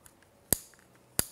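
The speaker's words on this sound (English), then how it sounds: "that's the clicking you hear in that little ratchet there" A small ratchet on a weight-driven clock clicks as the clock is wound, giving two sharp, close clicks about half a second apart against a quiet background with no talk.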